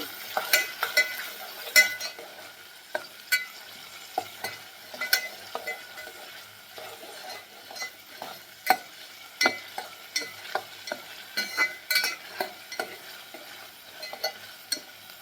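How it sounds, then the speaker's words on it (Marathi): Onion puree fries in hot oil for a spicy Maharashtrian misal, giving a steady close sizzle broken by frequent scraping knocks of a spoon stirring the pan. "कांद्याची प्युरी आपल्याला तेल सुटेपर्यंत भाजून घ्यायची आहे बघा, मस्त अशी लाल होईपर्यंत"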